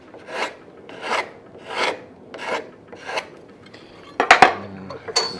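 A freshly sharpened card scraper works along the grain of a wooden neck, about six slow, evenly spaced rasping strokes up close, followed by a couple of sharp metallic clinks and knocks.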